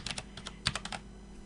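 Rapid bursts of keystrokes on a computer keyboard as an IP address is entered at a terminal to transfer files over SSH, close and crisp with short pauses between clusters of taps, no voices.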